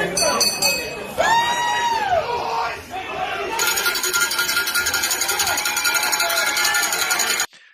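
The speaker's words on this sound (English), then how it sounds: "They got like cowbell stuff going on. It's effective. It's riling the crowd up." At a wrestling show, the crowd bangs a cowbell in a fast metallic clanking rhythm, loud and steady over roaring, chanting fans and whistles, with people talking throughout.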